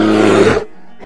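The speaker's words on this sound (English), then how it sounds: "Black bear." A black bear gives a deep, loud roaring growl lasting about half a second, then trails into a brief low rumble and a short huff.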